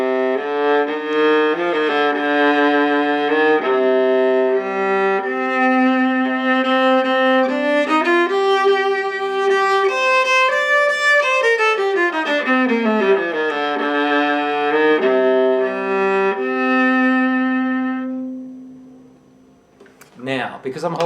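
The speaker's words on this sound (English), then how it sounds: "this is a Struna Master viola" A Struna Master viola plays a sustained bowed melody with smooth, connected phrases rising and falling, close and full, fading out near the end before a brief rustle.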